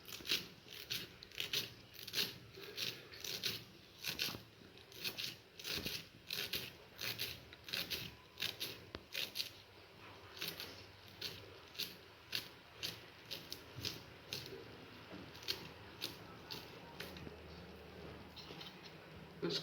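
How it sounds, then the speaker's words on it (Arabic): A knife chops coriander and parsley on a board in a simple home kitchen, giving a long run of quick, regular, faint taps close by with no talking. "نقطع القزبر معدنوس، ثم نرفعه مزيان."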